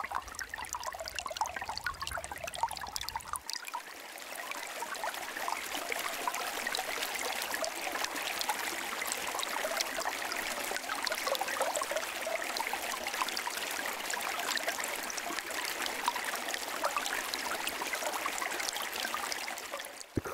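Creek water gurgles and bubbles inside a hollow tree stump, picked up close by a condenser mic, a busy, continuous trickling churn that grows fuller after the first few seconds.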